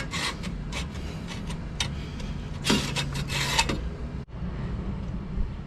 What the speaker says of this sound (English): So this side I'm cutting through the bolt.